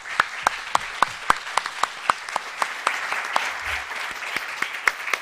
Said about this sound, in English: please join me to thank them all with like a hard applause